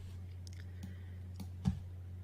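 A computer keyboard key clicks a few times, with sparse, sharp taps spaced apart over a low steady hum, the last one slightly louder.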